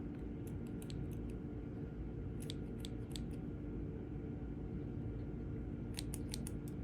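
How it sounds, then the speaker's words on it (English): Ordinary scissors snip through yarn while crocheting a lavender sprig. There are three close clusters of quick, crisp cuts over a steady low background hum. "I'm gonna cut my yarn."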